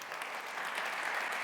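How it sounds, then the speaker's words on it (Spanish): A conference audience claps steadily for a moment after a talk, an even wash of applause at moderate volume with no voices standing out. "otro aplauso a David."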